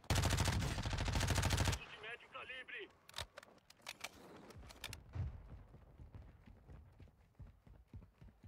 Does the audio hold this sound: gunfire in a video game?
yes